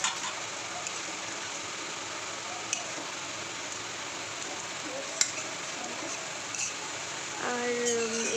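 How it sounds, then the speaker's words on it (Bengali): Egg curry frying in a pan as eggs are stirred in, a quiet, steady sizzle with a few faint clicks of a utensil, and a voice starts talking near the end. "আমি এখন ডিমগুলো ওর সঙ্গে দিয়ে দিচ্ছি, দিয়ে 5 মিনিট মতো রেখে দিলে আন্ডা কারি তৈরি হয়ে যাবে।"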